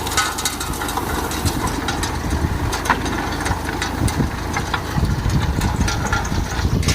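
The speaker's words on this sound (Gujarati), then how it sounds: "બીજું ટ્રેક્ટર જો" A tractor engine runs loud and close, a steady rumbling chug with rattling vibration throughout.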